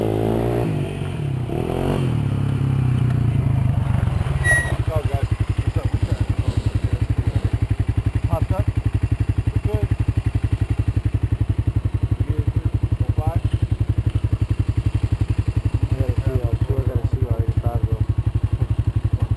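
A 2001 Honda CR250 two-stroke dirt bike engine idles close by with a steady, buzzing rattle after a brief rev, while people talk over it intermittently.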